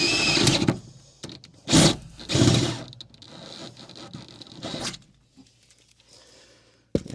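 A drill bores holes in the steel chassis rail of a 1975 Viscount Ambassador vintage caravan, with several short whirring bursts separated by pauses, close and moderately loud.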